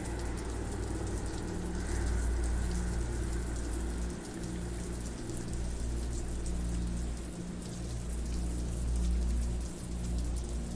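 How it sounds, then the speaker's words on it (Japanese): Steady rain falls in the Japanese horror game Tales of the Black Forest, a dense, continuous wash of droplets with no voices. "うわ、雨降ってるわ。"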